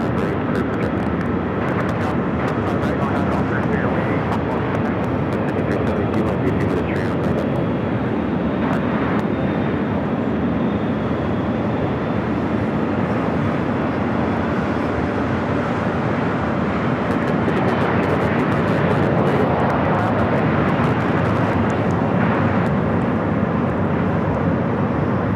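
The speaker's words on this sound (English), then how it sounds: "Takeoff here on the south side is Spirit Flight 1259 heading to Houston, Texas, an Airbus" Steady, broad roar of airliners taxiing and taking off at night at LAX, including an Airbus A320 and an A350-900, a continuous rumbling jet wash that swells slightly without pause, heard from a distance outdoors.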